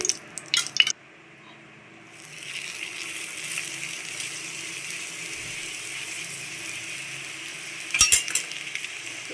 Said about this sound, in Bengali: এবার আমি ভাজবো চলো দেখা যাক এরপর কী করছি তো বন্ধুরা সাদা তেল দিয়ে দিচ্ছি